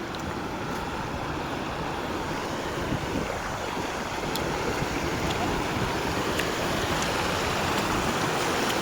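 Loud, steady rushing of flowing water fills the scene continuously, mixed with wind buffeting and broadband roar, with no pauses.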